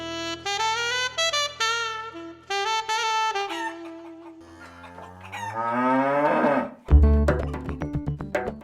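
Dairy cows on a farm low in long, loud, drawn-out moos, several calls overlapping and following one another closely, with no talking.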